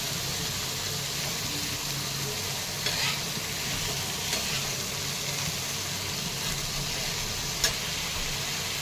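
Tomato, ginger and cashews frying in a pan for a spicy matar paneer curry give a steady, even sizzle with occasional soft stirring clicks, close and moderately loud, with no voices.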